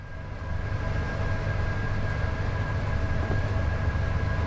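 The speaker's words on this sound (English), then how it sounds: "That's a double header of 87s hauling a steel train." Two Class 87 electric locomotives running double-headed with a steel train in a train simulator game, heard as a steady, continuous low rumble with a faint constant whine, no voices.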